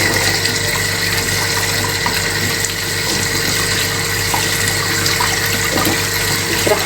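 Tap water runs steadily over red (baladi) chicken being rinsed after soaking in water and vinegar in a home kitchen, a continuous close splashing rush with no talking.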